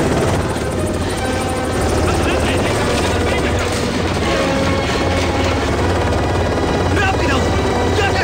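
A military helicopter lands on a rooftop, its rotor roar loud, dense and continuous throughout, with voices faintly under the noise.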